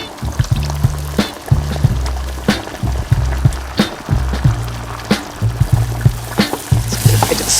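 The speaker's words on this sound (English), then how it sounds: "into this cauldron of bubbling caramel, I'm going to add 250 millilitres of coconut cream" Coconut cream pours and gurgles into a pan of hot bubbling caramel, with bursts of bubbling and sizzling throughout, close and continuous.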